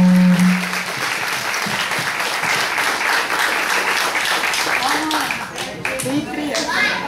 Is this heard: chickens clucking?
no